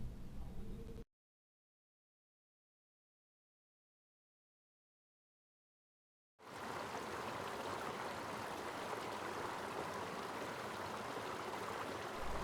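A river streams steadily beside a Ganesh temple at Amboli Ghat in the Konkan hills, a dense, continuous rush of flowing water that starts after a brief opening burst and a few seconds of silence.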